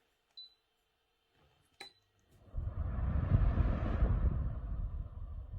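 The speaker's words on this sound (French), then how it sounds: "Voilà, il a démarré rapidement et aussitôt après il redescend." A Rowenta Air Force Intense 2-in-1 fan heater spins up with a rising whoosh of air after a couple of faint clicks, then holds a steady broad rushing hum, close and moderately loud.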